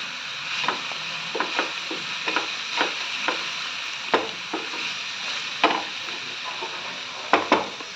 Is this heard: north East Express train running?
no